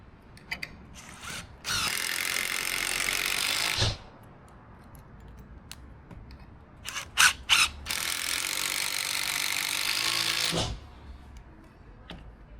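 A power driver whirs and ratchets in two sustained bursts with short clicks between them, sinking screws into new roof timbers during a rebuild of a broken roof; no talking.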